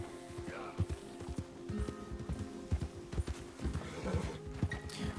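Horse hooves clop in an irregular, bouncing rhythm in the Red Dead Redemption 2 video game, with a whinny rising partway through. The sound is close and fairly quiet, with faint game ambience underneath.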